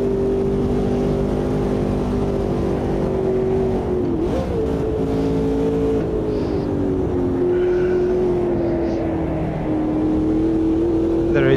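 An Ultima GTR race car in Automobilista 2 holds a steady, loud droning engine note in fourth gear, pitch rising and falling slightly over a bump, continuous and close with no talk.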